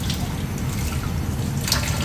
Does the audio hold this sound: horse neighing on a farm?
no